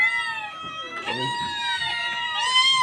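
Hungry pet cats meow repeatedly at close range while being fed, several high, drawn-out cries overlapping one another with little pause.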